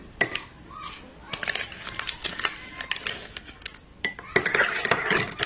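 Spoon clinking against a cup while stirring sugar into fitgum coffee: a run of bright, irregular metallic taps, some close and sharp, busier toward the end, with no talk over it.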